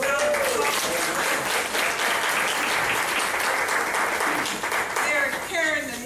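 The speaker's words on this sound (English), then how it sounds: "let's give Miss Avery and the Avery family a round of applause" An audience at a gala applauds warmly, sustained, even clapping filling the room for several seconds, with a voice audible faintly near the end.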